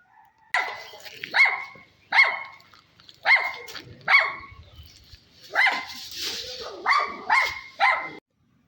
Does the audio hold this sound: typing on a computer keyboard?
no